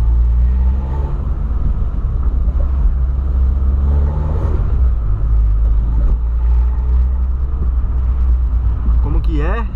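A 2008 Volkswagen Polo Sedan engine roars with a loud, steady low rumble throughout, close by, with a rising whir near the end; voices talk over it.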